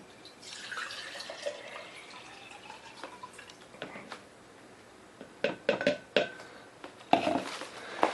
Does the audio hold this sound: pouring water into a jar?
yes